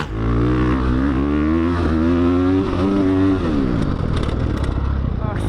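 A Ducati 450 dirt bike ridden hard on a motocross track, its engine loud and close, pitching up and down through repeated revs and gear changes before dropping into a rougher, choppy rasp as it backs off.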